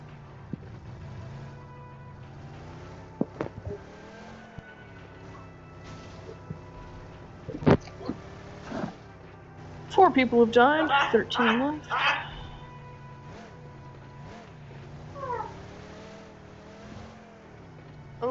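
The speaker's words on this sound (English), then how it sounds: "Vehicle coming in, shoot it." Vehicle engine in the PUBG Mobile battle royale game, a steady drone rising and falling as it drives nearby, with revving bursts and gunfire-like cracks, under near-constant voice chat and game announcements.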